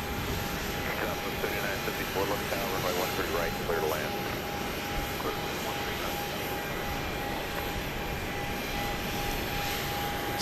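A Boeing 757-200 jet airplane at Dallas Love Field at night produces a steady engine roar with a sustained whine, while people talk intermittently over the continuous noise.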